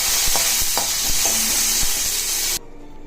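Chillies sautéing in a hot pan for kara adai, a dense close sizzle broken by regular stirring knocks against the pan, ending abruptly into near silence.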